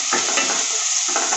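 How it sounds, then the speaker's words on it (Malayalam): Ginger and green chillies sizzle in hot oil as they are stirred in a pan, a loud, close frying hiss with brief scrapes of the spoon. "അതിൻ്റെ കൂടെ ഇഞ്ചി, പച്ചമുളക്, നല്ലപോലെ ഒന്ന് ഇളക്കി കൊടുക്കാം"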